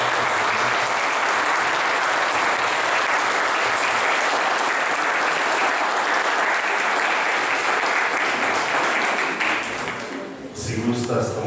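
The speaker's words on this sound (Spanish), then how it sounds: "Le damos un fuerte aplauso." Sustained audience applause fills a quinceañera ceremony, loud and steady for about ten seconds before tapering off, with a voice briefly audible near the end.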